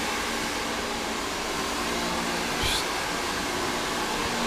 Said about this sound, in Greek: Συγχωρήστε τη φασαρία, είναι αυτό το πιστολάκι.